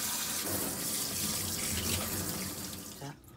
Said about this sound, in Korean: 그리고 물에 아주 잠깐만 헹궈 주시는 거예요